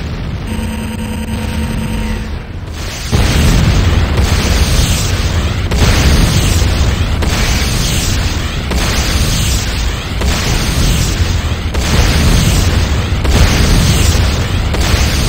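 Buildings exploding in the video game C&C Renegade: after a short electronic tone, a loud, sustained roar of overlapping booms surges in repeated waves, dense and close.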